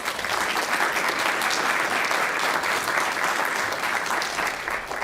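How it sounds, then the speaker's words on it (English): A crowd claps steadily and loudly, a dense wash of applause sustained throughout without pause. "let's give him a round of applause"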